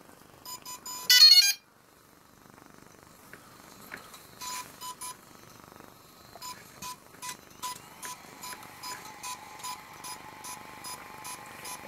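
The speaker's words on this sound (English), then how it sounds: "if you hear that, the series of long beeping, that means it's in a firmware upgrade mode" A DJI Inspire 1 drone in firmware upgrade mode emits a series of beeps: a short loud burst, then repeated tonal beeps of varying pitch in a quiet room, some held longer.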